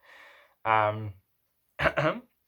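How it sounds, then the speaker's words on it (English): A single dry cough from a man during post-match football analysis, a brief burst standing apart from his other vocal sounds in a quiet room. "that's not a COVID cough"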